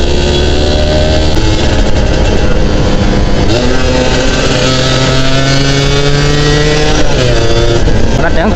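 A motorcycle set up for cornering revs hard through a bend, its loud engine note rising and falling as gears change, with wind noise and a voice talking over it.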